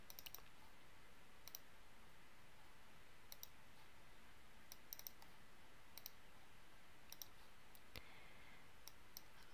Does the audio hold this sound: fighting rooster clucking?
no